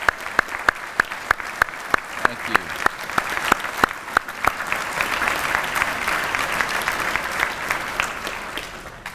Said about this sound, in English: Please stand and let's give you a round of applause.